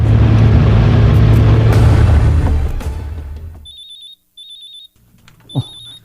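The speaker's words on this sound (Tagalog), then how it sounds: "May nanawag." A telephone rings for an incoming call, sounding three short, bright electronic trill bursts in a steady rhythm, close and clear, after a loud rumbling, roaring noise that fills the first few seconds cuts away; a brief low thump follows near the end.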